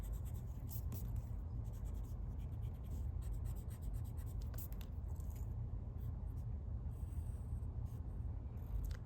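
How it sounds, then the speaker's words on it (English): Pen scratching outlines on paper for a street art perspective drawing, a steady close scraping of strokes with brief pauses, quiet and continuous over a low background hum. "So we're gonna draw in and just outline, and they don't have to be perfect."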